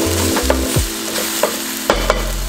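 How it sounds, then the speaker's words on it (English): Green curry hits a hot frying pan in a home kitchen, a steady sizzle punctuated by several sharp stirring scrapes and clatters of a utensil, close and loud with no talking. "Some green curry. I'm adding green curry now."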